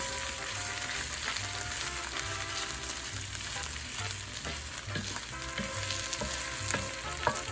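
Pork chops and onion frying in olive oil, a steady crackling sizzle with a few light clicks of stirring, quiet and close with no speech.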